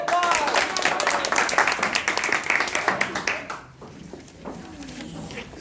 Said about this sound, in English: Good job, round of applause.